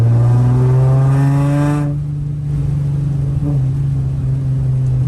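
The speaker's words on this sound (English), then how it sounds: "Quite a bit rattlier and a little bit more droney in here with the interior pieces pulled out of the rear" Inside a car with its rear interior trim pieces pulled out, a loud, steady engine drone fills the cabin. The pitch climbs at first, then holds level with a rattly, booming hum and no talking.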